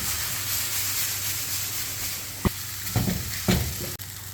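Vegetable fried rice with soy sauce cooks in a pan, a continuous close sizzle and hiss broken by a few sharp scrapes and knocks of stirring near the end, with no talking.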